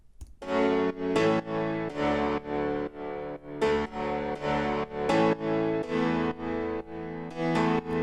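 Chord progression in a second version, with added notes at the end of every third chord, heard as a steady series of bright synth chord stabs, moderately loud with no voices.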